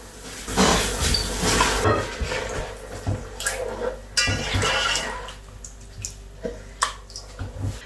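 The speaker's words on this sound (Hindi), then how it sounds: "पानी में बॉईल आ चुका है तो अब हम इसमें चावल ऐड करते हैं।" Rice is added to a pot of boiling water while cooking matar pulao (peas pulao). There are splashing, pouring and bubbling sounds with scattered sharp clinks and drips, and no talk.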